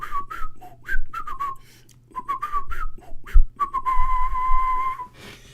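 A person whistles a melody solo, with clear sustained and gliding notes in short phrases broken by brief pauses, close and fairly loud.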